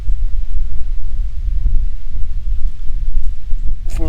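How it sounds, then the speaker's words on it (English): Gusty wind buffets the microphone on a windy afternoon of bass fishing, giving a close, fluttering low rumble that rises and falls in uneven bursts. "for this really windy Saturday afternoon"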